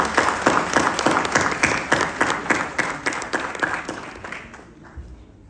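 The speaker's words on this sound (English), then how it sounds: "Let us give them a big round of applause." Audience applause for a panel on ethnic cleansing, a steady burst of rhythmic clapping that holds strong and then fades out over several seconds.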